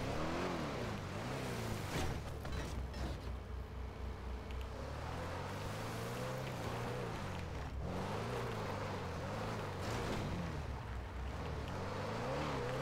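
A stolen car drives in a video game, its engine droning loudly and continuously with rising and falling revs as it accelerates and shifts, close and dominant with no talking over it.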